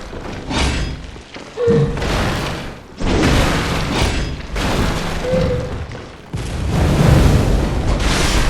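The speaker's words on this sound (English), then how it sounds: "Get my flame sprayer on." A flame sprayer in Bloodborne fires in repeated bursts, each a loud, broad roaring whoosh lasting one to two seconds, separated by brief pauses, with a low thudding impact underneath.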